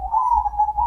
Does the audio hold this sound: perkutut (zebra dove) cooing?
yes